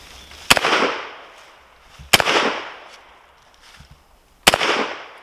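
Three sharp shots ring out from an M1A1 .30 carbine rifle fired at a pop bottle outdoors, each loud crack followed by a rolling echo, spaced unevenly over a few seconds, with no talk.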